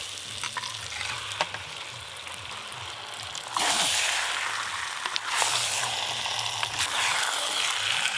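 Spice-marinated chicken hits hot masala in a pan for a chicken curry, a steady close sizzle that surges louder midway as the pieces go in and are stirred, with no voices.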